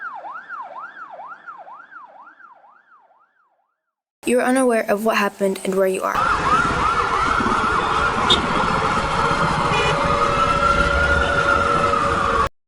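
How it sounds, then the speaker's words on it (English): Ambulance and police car sirens wail, rising and falling steadily, then give way to loud, dense, roaring noise with a spoken voice over it. "you look up and see ambulances and police cars"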